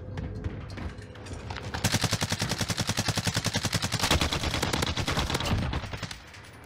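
Sustained automatic LMG fire in the Warzone video game, a rapid steady stream of loud shots running for several seconds before breaking off near the end.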